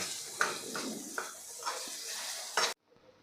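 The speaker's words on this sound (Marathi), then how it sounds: "आता हे सगळं आपण परतून घेऊ" Bananas sautéed in ghee for prasad sheera sizzle steadily in a pan as a spoon stirs with several distinct scraping strokes, close and clear, before the sound cuts off abruptly near the end.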